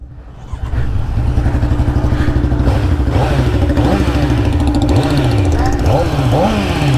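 A Kawasaki Z900 sport motorcycle engine with stock exhaust idles and revs repeatedly, its note rising and falling in short throttle blips, loud and close.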